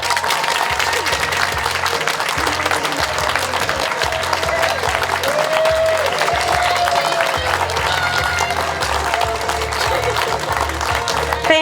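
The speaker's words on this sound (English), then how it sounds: "all members of the Sparkle section, please stand for a round of applause" A large audience at the Miss Osceola pageant claps steadily for about twelve seconds, dense and loud throughout, with crowd murmur beneath the applause.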